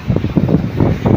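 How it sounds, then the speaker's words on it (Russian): Strong wind gusts on a beach at Sukko during a November storm buffet the phone microphone in rough, pulsing bursts, loud and close, with no voices. "Начал ветер у меня вырывать телефон."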